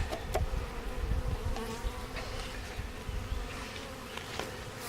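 A dense, steady buzzing of many honeybees in a shipping package fills the clip, close and continuous, with a low rumbling hum and a few sharp taps.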